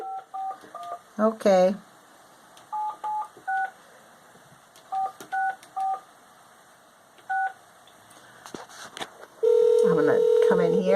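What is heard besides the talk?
telephone dialing tones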